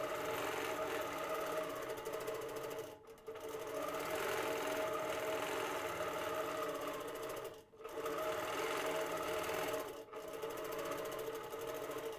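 Moxie longarm quilting machine stitching a pantograph across a quilt: a loud, close, continuous mechanical hum and rapid needle chatter, briefly dipping three times as the machine pauses, with no talk.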